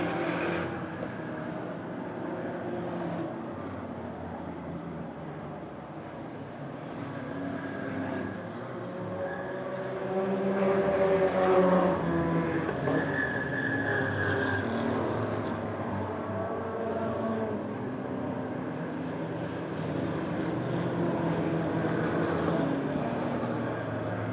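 Race cars at Motordrome Speedway during a September 2009 Crash-A-Rama event, late in the race with lap traffic, give a steady, fairly distant engine drone that swells and fades slightly as the field circles the track.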